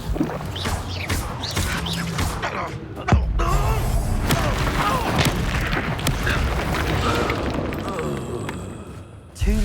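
Magical spell blasts such as Bombardo and Confringo burst from the Hogwarts Legacy video game, booming and thudding loudly and almost continuously under a voice chanting spell names, with a sharp crack partway through.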